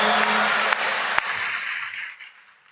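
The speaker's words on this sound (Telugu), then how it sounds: "చప్పట్లు కొట్టి దేవుని మయంపరచి గట్టిగా హలేలుయా" A church congregation claps loudly in a dense burst of applause during a Telugu sermon, and the clapping gradually thins and fades over a few seconds.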